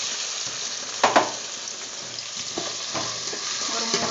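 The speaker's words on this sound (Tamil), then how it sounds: "ஒரு 3 தக்காளி போட்டிருக்கேன். நல்லா தக்காளி ஃப்ரை பண்ணலாம்." Tomatoes with salt and turmeric fry in a pan with a steady, close sizzle, with a couple of brief stirring clatters and no talking.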